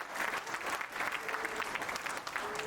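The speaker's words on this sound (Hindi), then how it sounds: "तालियां जो बजा रहे हैं" Audience applause at a stand-up comedy show: a continuous burst of many hands clapping, fairly loud and even throughout, with no voices over it.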